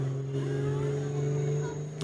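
A York Diesel Performance 2.6 Pro Street diesel pulling truck named Bad Blood rolls through a Christmas parade in Lebanon, Missouri. Its engine holds a loud, steady drone with a strong low hum throughout.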